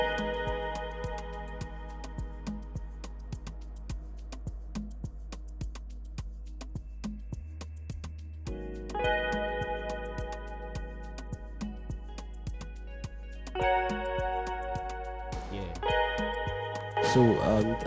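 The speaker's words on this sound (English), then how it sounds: "I have an electric guitar that played," Electric guitar pattern programmed in FL Studio, playing a steady repeating plucked figure with distorted, chorus-tinged tone over a low sustained bass, pausing briefly and returning fuller toward the end.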